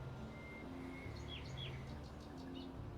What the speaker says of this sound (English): I hear the birds chirping.